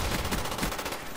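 Rapid gunfire from Call of Duty: Black Ops 1 gameplay, a dense burst of repeated shots with some blasts, loud and close, continuous through the short stretch with no talk.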